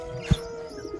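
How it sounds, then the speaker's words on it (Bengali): A single brief, low coo comes from domestic pigeons kept in a home, heard close over a quiet background hum. "এই পাশে কবিতর, কত কবিতর রাখা আছে।"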